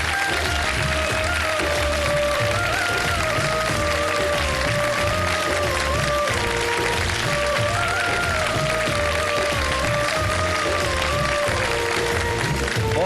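Studio audience applause on the ARY Digital Ramadan show Shan e Ramzan, a dense, continuous wash of clapping that never breaks, with faint tonal sounds mixed underneath.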